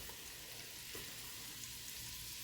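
Steady sizzling of all-purpose flour frying in a pan for a roux, a faint, even hiss with no talk over it.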